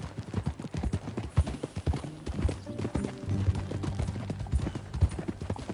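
Galloping horse hooves clop in a quick, steady rhythm while riding in the video game Red Dead Redemption II, with a brief tonal cry that may be a whinny midway, close and moderately loud.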